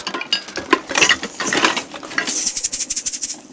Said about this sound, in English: Castanets.